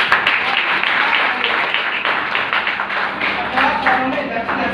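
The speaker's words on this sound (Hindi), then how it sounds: "एक बार जोरदार तालियां दो" An audience at a network marketing company event for Vestige breaks into loud, sustained applause, a dense continuous clatter of many hands that stays strong throughout, with some voices underneath.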